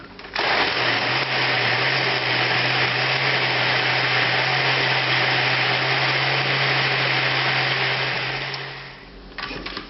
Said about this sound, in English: after this is combined, we're going to put it in a blender